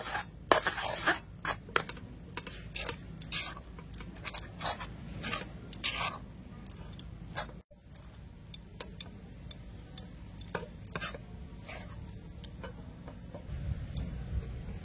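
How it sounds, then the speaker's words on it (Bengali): Rice flour stirred with cooked grated coconut into a dough in a pot, giving irregular scraping taps and thuds of a spoon, close and fairly loud, alone without talk. "নেড়ে ছেড়ে এখন ডো বানিয়ে নেব।"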